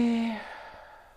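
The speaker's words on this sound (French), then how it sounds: "Et on expire." A single deep exhale during a spine-strengthening breathing exercise, breathy and soft, fading out gradually over about a second with nothing else around it.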